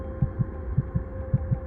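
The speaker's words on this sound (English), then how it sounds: "her heart pounding" A heartbeat sound effect of a pounding heart, steady low thumps in pairs over a faint constant hum, close and alone.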